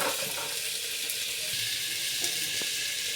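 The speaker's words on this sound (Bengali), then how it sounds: "এটার মধ্যে ঘি দিয়ে দিয়েছি। এখন আমরা সবজিটা ভেজে নেব।" Vegetables frying in ghee in a cooking pot, a steady close hiss of sizzling with a few faint clinks and stirring sounds, no voices.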